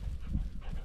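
A hunting dog pants softly during a rabbit hunt outdoors, a brief burst of quick, breathy low puffs heard close and alone.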